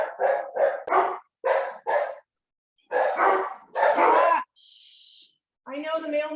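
Several dogs bark in sharp, excited bursts nearby, with a few yips and a high whine between volleys.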